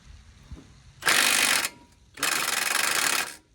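Pneumatic impact wrench tightening a bracket on a 1987 Chevrolet K-10 truck, firing two loud, sustained hammering bursts of roughly half a second and over a second, separated by a short pause.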